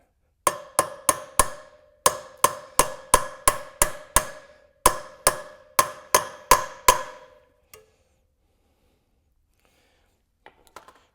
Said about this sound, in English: So when you drive this bearing in, it's landing on that crush sleeve.